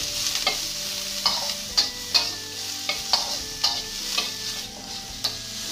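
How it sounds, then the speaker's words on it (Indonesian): Garlic, ginger and onion stir-fried in hot oil, a constant bright sizzle broken by regular sharp scrapes of a spatula against the pan, close and alone. "Panaskan sedikit minyak lagi, tumis bawang putih dan jahe. Sekalian masukkan bawang bombay."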